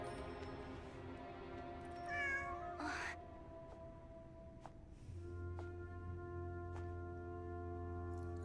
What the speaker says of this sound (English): It's her cat.